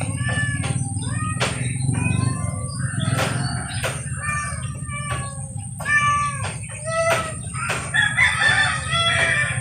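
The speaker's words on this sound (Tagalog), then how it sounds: "Ganyan po kaya ang pag-uusap ng ating mga alagang manok." Several roosters, Chinese and native breeds, crow back and forth, overlapping calls from different distances, with softer clucks and a low steady hum underneath.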